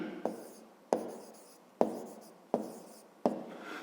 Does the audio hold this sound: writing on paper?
yes